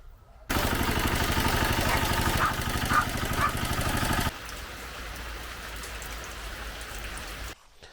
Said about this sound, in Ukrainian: Дощик, як завжди, не дає нам працювати.